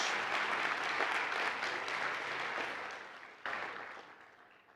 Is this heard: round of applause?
yes